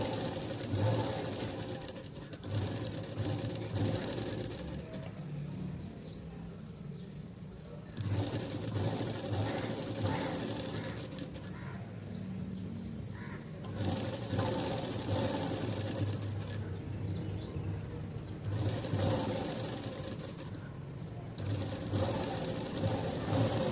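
A sewing machine stitching a blouse seam runs in several bursts, each a loud rapid whir separated by brief pauses, with a voice speaking in between.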